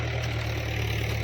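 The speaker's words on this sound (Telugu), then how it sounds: "ఆయన ట్రాక్టర్ దున్నుతాడు, ఆ సౌండ్కి వాయిస్ పడదు కాబట్టి ఇటు పోదాం" A tractor engine runs steadily while plowing a farm field, a continuous low droning hum with a rumbling idle-like tone, close and loud throughout with no talk.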